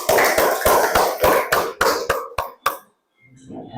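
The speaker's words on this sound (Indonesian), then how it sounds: "Tepuk tangan dulu." A class of children clapping hands together, a burst of quick rhythmic claps close by that slows and stops, followed by faint murmuring voices.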